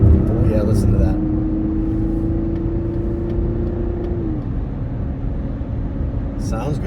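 A 2024 Mazda CX-90 AWD Premium Plus SUV pulls away through an off-camber turn, its engine droning steadily with a rising tone under road rumble while people talk over it.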